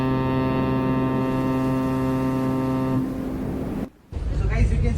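A yacht's deep horn blasts steadily for about three seconds during boarding at Dubai Marina, loud and close. It cuts off into broadband noise and a brief hush, then voices and background bustle follow.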